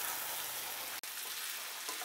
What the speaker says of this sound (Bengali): এটা মশলার সাথে কপিটা ভালো করে একটু মিক্সড করে নিচ্ছি।